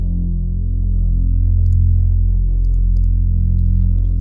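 A deep, sustained synth bass preset from a liquid drum and bass track made in FL Studio rumbles on its own, thick and steady with a few faint high ticks above.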